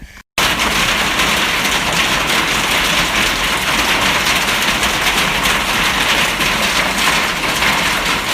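Dense, steady pattering of hail on surfaces, loud and continuous after a brief quiet start, with no voices.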